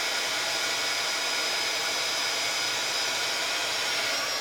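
A heat tool blasts hot air to set embossed stamped images, a loud, steady whooshing blower roar held constant throughout with no voices.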